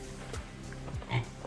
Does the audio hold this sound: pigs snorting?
yes